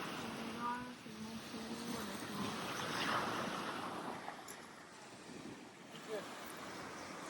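Sea waves wash steadily onto a calm beach in Italy, a broad rushing surf with wind buffeting the microphone, continuous and fairly soft.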